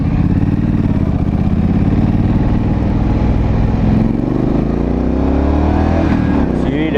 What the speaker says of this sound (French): L'échappement fait un peu de bruit quand même.